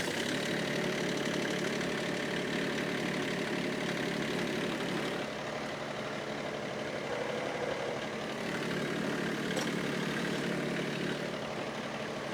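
A Kioti tractor engine runs steadily with a King Kutter tiller attached, a continuous low, even drone with a slight knocking texture, close and unbroken for the whole stretch.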